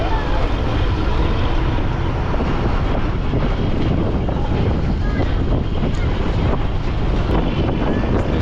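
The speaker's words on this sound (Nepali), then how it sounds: "यता आएर यो चिसो हावा खानु" Strong wind buffets the microphone in a continuous loud roar, with a faint hiss like water beneath it.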